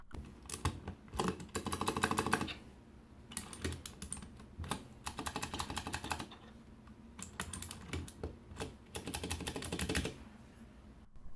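Rapid typing on a Vortex Poker 3 mechanical keyboard, finely tuned switches with no stabilizer rattle, a steady close stream of crisp keystrokes in bursts with brief pauses, heard alone without talk.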